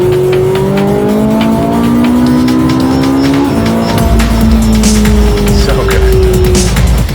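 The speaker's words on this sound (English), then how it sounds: "It just does not get better than the Ferrari 458 Italia." A Ferrari 458 Italia laps a racetrack, its engine climbing in pitch through hard acceleration with a gear change midway, then pulling again. The engine is loud and sustained throughout.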